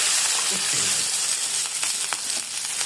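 Fish sizzling in hot oil in a pan, a steady broadband frying hiss with occasional small pops and crackles running evenly throughout, close and fairly loud with no talk.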